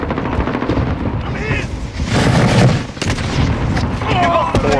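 Loud gunfire bursts through a sniping match in Call of Duty Warzone, with heavy booming shots and rattling fire mixed in with people talking over the action.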